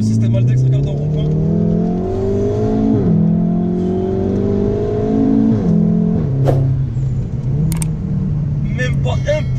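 Volkswagen Golf 7R Stage 3 accelerating at full throttle through a roundabout, engine note rising in repeated sweeps with brief drops at gear changes, loud and close from inside the cabin, with short sharp clicks and pops near the end.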